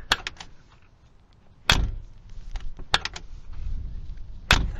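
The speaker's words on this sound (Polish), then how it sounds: "Posłuchajmy, jak się otwierają i zamykają drzwi." Mechanical clicks and clunks of a 2008 Mercedes G55 AMG car door, a handle click followed by heavier thuds of the door opening and shutting, with short gaps of quiet between.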